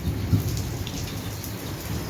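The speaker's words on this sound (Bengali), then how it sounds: "অনেক জোরে বৃষ্টি হচ্ছে" Heavy rain pours down in a dense, steady hiss, with a brief low rumble near the start.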